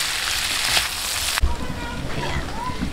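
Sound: onions added to frying pork sisig, sizzling

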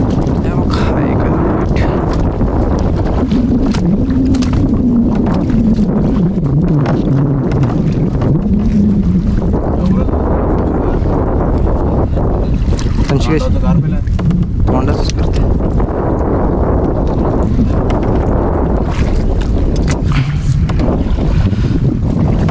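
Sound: strong wind on a rocking fishing boat

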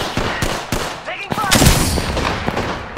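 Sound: gunfire in the video game Apex Legends

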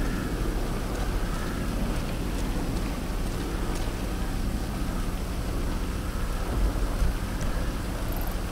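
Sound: thunderstorm rain in GTA V Online video game

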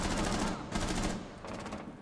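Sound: gunfire in the video game Rainbow Six Siege

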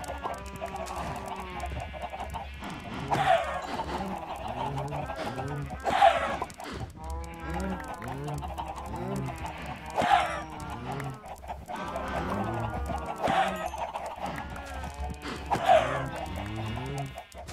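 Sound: chickens clucking in Minecraft video game

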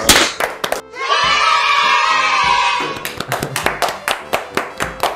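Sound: applause

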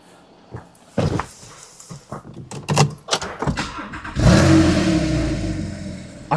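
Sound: Porsche 911 Targa Gen 2 flat-six engine running

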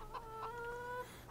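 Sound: chickens clucking in the video game Farming Simulator 2015

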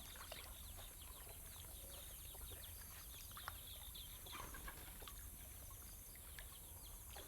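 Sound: chicken clucking

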